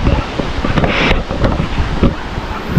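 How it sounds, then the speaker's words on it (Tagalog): Strong sea waves surging along a shore in the late afternoon, a loud continuous roar of churning surf with wind buffeting the microphone and a few heavier crashes. "ang ating dagat pala ngayon, no, ay lumakas na naman yung alon"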